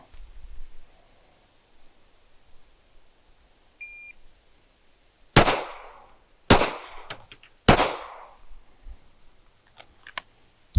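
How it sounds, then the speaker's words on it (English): Three sharp gunshots ring out on a shooting range during target transition drills, evenly spaced about a second apart after a quiet lead-in, each a loud crack with a brief decaying echo, and a fourth begins at the very end. "Okay, again, 3 good shots."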